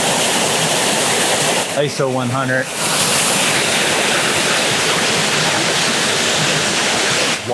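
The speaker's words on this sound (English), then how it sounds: "This is a really cool waterfall." Kilgore Falls, a waterfall in Rocks State Park, Maryland, pours in a steady, loud broadband roar with a close, continuous rush, and someone briefly speaks over it.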